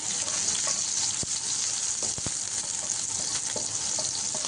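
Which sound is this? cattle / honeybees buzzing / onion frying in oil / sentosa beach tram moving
onion frying in oil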